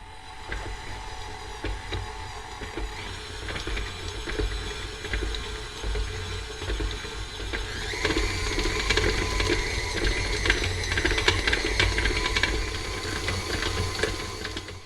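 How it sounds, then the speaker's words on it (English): An electric mixer blends butter, powdered sugar and vanilla for snowball cookies. The motor whirs steadily and close throughout, growing louder and busier about halfway through, with no voices. "you're going to blend that all together with the mixer"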